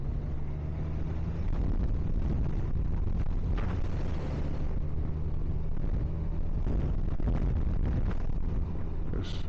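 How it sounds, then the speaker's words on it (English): Heavy wind buffets the microphone in loud, rough gusts while riding a 2023 Honda Gold Wing motorcycle, blending with a droning engine underneath. "It is pretty windy."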